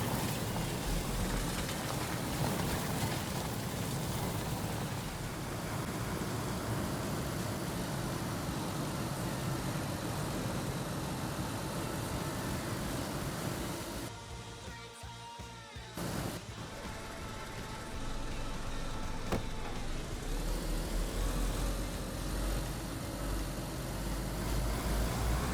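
A car engine in the video game DayZ drives along steadily and loudly for the length of the clip, with a brief dip and break in the middle before the drone resumes at full level.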